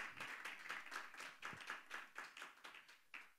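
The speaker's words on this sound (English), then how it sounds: "And let's give a big hand of applause to Mr. Alex and Brother Latif." An audience claps at a church gathering, a quick run of sharp, fairly even hand claps that stays modest and close, with no voices over it.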